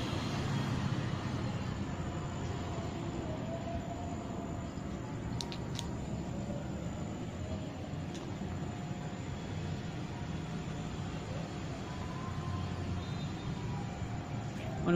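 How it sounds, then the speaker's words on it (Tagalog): Steady roar of heavy road traffic with many vehicles passing continuously nearby, a constant broadband wash with no clear gaps, heard outside an abandoned bank building. "Dami talagang mga sasakyan."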